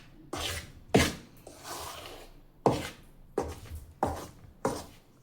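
A spatula scrapes and pushes flour mixed with hot oil for crisp spicy puris, six separate rough swishes at uneven intervals, each a sharp gritty stroke that fades quickly, close and clear with no talking.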